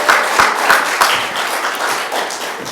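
Congregation applause at a Korean Baptist church's ordination ceremony for deacons, a broad wash of clapping with a few sharper claps standing out early, steady and moderately loud across the whole short stretch.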